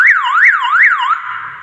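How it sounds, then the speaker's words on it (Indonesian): A three-phase 120-decibel alarm siren under test wails loud and close, its pitch sweeping up and down in three quick cycles before settling into a steadier tone at the end. "Nah, alarm berfungsi dengan oke."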